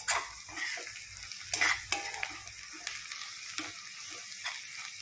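Onions frying and browning in a pan while biryani is being cooked, with a steady sizzle under repeated stirring scrapes and a few utensil clinks against the pan, close by with no talking.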